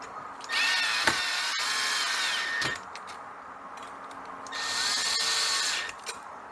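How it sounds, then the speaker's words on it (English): A cordless screw gun drives screws into the engine cover of a Troy-Bilt four-stroke machine, giving two sustained whirring bursts of several seconds each with short pauses and a few clicks between them, close and fairly loud. "The screw gun may sound like we're tightening them, but we're really not."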